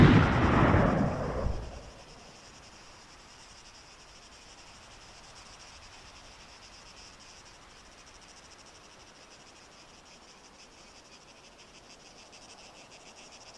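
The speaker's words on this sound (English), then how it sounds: "Look, watch when I fire." A single loud sniper rifle shot in ARMA 3 booms at the start and rolls off over about two seconds. After it comes a long quiet stretch of steady cricket-like ambient chirping.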